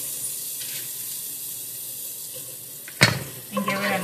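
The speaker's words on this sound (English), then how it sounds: "Now I'm gonna go ahead and add our green onions and chili." Garlic, green onions and green chilies sizzle in a pan in a steady, hissing fry, broken by a sharp clatter near the end as ingredients are stirred or added.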